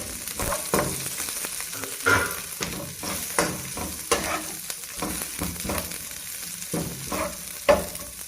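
Garlic and green chilies fry in sizzling oil in a pan while a spatula scrapes and stirs in repeated, irregular strokes, close and clear.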